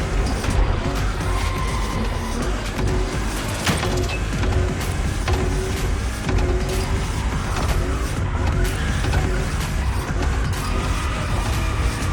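Toyota Supra, fifth generation, drifting in The Crew Motorfest racing game, with a steady loud engine roar and intermittent tire skid and squeal running continuously throughout, over faint background music.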